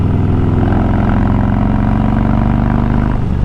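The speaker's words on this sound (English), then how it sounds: "that exhaust, the sound just bouncing off of the sides of the mountain rocks, it just sounds so good" A motorcycle exhaust rumbles continuously on a mountain road on Mount Lemmon, Arizona, its steady engine drone and revving reverberating off the surrounding rock walls, loud and close with no talk.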